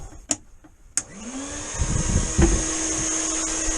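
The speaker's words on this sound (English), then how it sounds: "Let's try the hoover." A hoover vacuum cleaner switched on inside a VW T2 camper van, its motor spinning up with a rising whine after a couple of clicks and then droning steadily and loud, close by.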